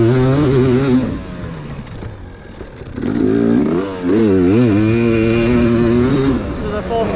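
Honda CRF150R dirt bike ridden hard on a fast lap, its engine buzzing and revving loudly up and down close by, with a brief dip before surging again, rider talk mixed in.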